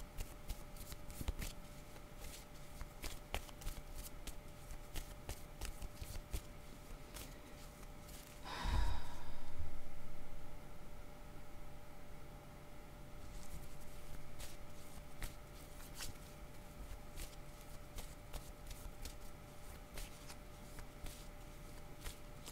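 Cards shuffled for a card reading: repeated crisp riffling flicks through the clip, with one louder burst of shuffling in the middle, fairly quiet and alone in a hushed room.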